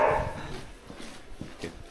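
Street dogs in Amritsar give a few short, soft barks and yips close by, scattered irregularly over a low background of street noise.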